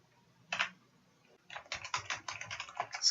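A single key press, a pause, then a rapid run of close clicks as Java code is typed on a computer keyboard, quiet and without talk.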